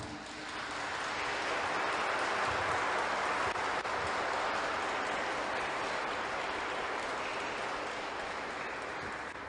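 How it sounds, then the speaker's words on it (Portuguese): An audience applauding for Lava Jato, a dense, sustained roar of many hands clapping that swells in and holds steadily for the whole stretch. "vamos dar uma salva de palmas para a Lava Jato?"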